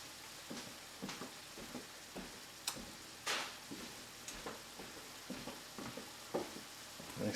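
Crawfish and their juices sizzle in a frying pan with a low, steady hiss. Intermittent clicks and scrapes of stirring sound close by, and no one speaks.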